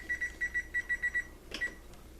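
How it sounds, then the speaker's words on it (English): Kitchen oven timer being set chirps in a rapid run of about eight evenly spaced electronic beeps, then one final beep after a short pause, close and clear. "And setting the timer."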